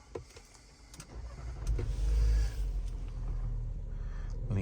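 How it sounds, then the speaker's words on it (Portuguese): A Volkswagen T-Cross Highline 2025 starting up, with a low engine rumble swelling over about a second into a steady idle hum inside the car. "Ligamos o veículo,"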